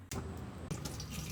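Water splashing from a tap or vessel into batter for banana bajji in an office kitchen, a short steady pour with a brief break partway through, close and moderately loud.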